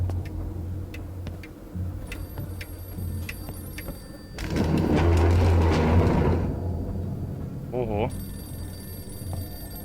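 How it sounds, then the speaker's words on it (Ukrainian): A telephone rings in a horror video game, its bell tones repeating at a moderate level over ticking, a humming background and a louder noisy passage, with someone speaking at times. "Девушка, пожалуйста, скажи, що телефон дзвонить."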